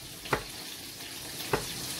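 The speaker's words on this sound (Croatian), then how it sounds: "I pržimo ovako 1-2 minuta." Soft, steady sizzling of sliced garlic frying in oil, with two brief clinks of a utensil against the pan.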